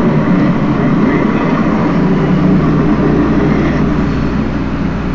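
Race car engines at Indianapolis Motor Speedway drone in a dense, continuous roar at a distance, steady and loud throughout, with no clear speech.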